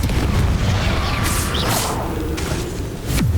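A Confringo fire spell is cast in Hogwarts Legacy, loud swooshing bursts and booming explosive impacts layered with whooshes and crackling debris, several sharp hits spread across a few seconds.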